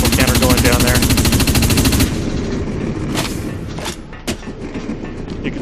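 Full-auto gunfire from the Dust 514 video game, a loud, fast stream of shots for about two seconds, followed by scattered single bangs and booms.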